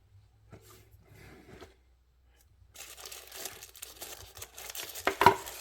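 Fancy wrapping paper is peeled off a Kizer Flashbang knife close by. Soft crinkling and tearing come in short bursts, then a louder rustle ends in a sharp crackle.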